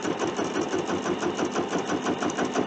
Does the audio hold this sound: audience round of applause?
no